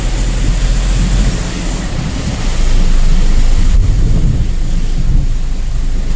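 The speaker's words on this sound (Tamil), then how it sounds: "செம்ம மழை பெய்யுது." Heavy rain pours during a thunderstorm on a highway drive near Villupuram, a loud continuous wash of noise with rumbling low-end swells, heard from inside a moving truck.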